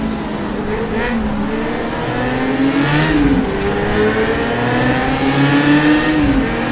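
A 1960s Formula racing car in rFactor2 revs hard through the double right-handers at Monaco, its high engine note rising and falling with gear changes, loud and continuous with no talk.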